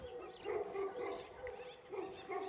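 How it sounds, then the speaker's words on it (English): Several livestock guardian dogs bark and yip in quick, overlapping bursts at a distance on a farm, fairly faint, with some whining mixed in. "All the dogs are going crazy"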